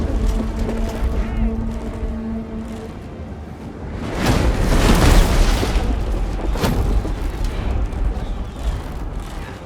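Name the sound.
catapult fire in Total War: Three Kingdoms video game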